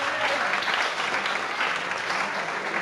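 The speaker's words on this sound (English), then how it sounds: "Okay, a round of applause for Class 8." A room at a school award presentation claps for Class 8, a steady, dense round of applause that holds evenly for a few seconds with no voices over it.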